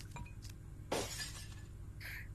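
A robot shatters into pieces in the video game I Am Cat: one sharp, bright glass-like crash bursts out partway through, with faint clinking before and after.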